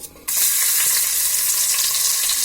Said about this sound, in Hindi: फर्स्ट लहसुन डालना